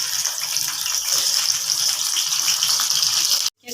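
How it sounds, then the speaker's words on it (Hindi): Ghee poured over okra in a pan gives a steady loud gushing sizzle with no break for several seconds, then cuts off abruptly near the end. "अब ये भिंडी हम इसके ऊपर आधे घी मैंने डाल दिया 1 कप"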